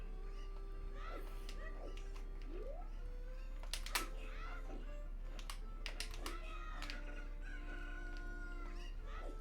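Chickens in a game match, with repeated short clucks and squawks and a faint crow-like call over a steady low hum, with no speech.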